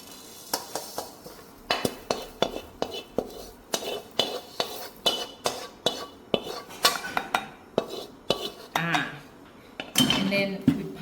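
Coriander and cumin seeds pounded in a mortar for Thai curry paste: a steady run of sharp, close knocks about twice a second, each with a short ring, with some scraping and a brief voice near the end.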